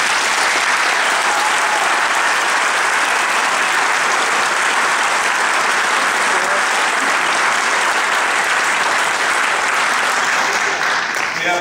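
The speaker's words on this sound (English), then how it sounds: "Give them all a great round of applause." An award ceremony crowd gives a long, loud round of applause, a continuous dense roar of clapping that holds steady throughout with faint voices mixed in.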